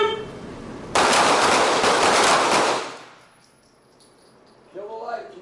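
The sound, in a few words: handgun gunshots at shooting practice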